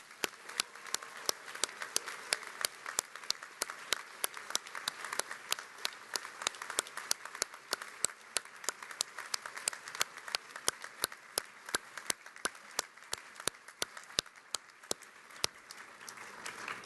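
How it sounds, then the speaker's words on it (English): Sustained applause from a large audience at a law school graduation awards ceremony, with sharp individual claps standing out over a continuous rattle of hands, steady for the whole stretch. "Let's conclude with one final round of applause for all of our graduates."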